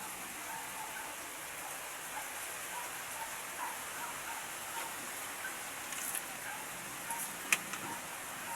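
Steady rain patters on a house roof during a heavy downpour, a dense continuous hiss with scattered sharper drops close by and no talking.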